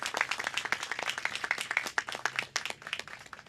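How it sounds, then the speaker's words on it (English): A small outdoor crowd at a park and creek restoration ribbon cutting claps, with individual hand claps distinct in an uneven, lively rhythm, fairly faint and without talking. "Everyone give us a round of applause just for getting this far with the project."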